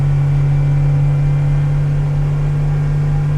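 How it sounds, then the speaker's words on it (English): A Yamaha outboard on a 2012 Hewescraft Sportsman 200 drones loudly and steadily at high revs, around 4,300 RPM while coming up on plane, a constant close mechanical hum with no pauses. "Bringing the boat up on plane."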